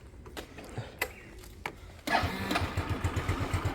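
A used motorcycle engine catches on the first attempt: a few clicks and starter noises, then the engine fires up and settles into a steady, close, rhythmic idle.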